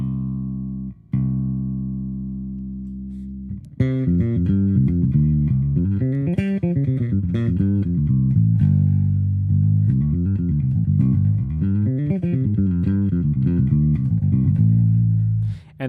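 Bass guitar played through Logic's stock Bass Amp Designer amp simulator: a single low note rings out, then a steady run of sustained, warm bass lines fills the rest, loud and close with no talking.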